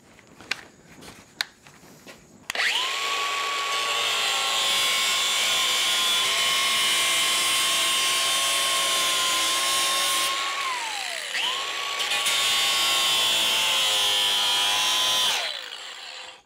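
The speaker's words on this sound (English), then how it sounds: "So I think that'll work really well as a safety feature to cut another inch off of this." A power tool cuts through the plastic guard of a PTO drive shaft for a Kubota B2601 bush hog setup, a loud steady whine running about eight seconds, briefly dipping, then resuming for another four before stopping.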